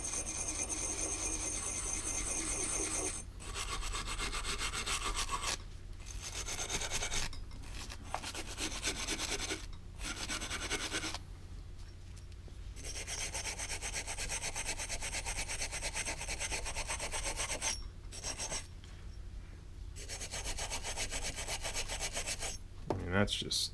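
Carburetor parts being wiped and rubbed clean by hand, a steady close rasping scrub that pauses briefly a few times, with a faint low hum running underneath.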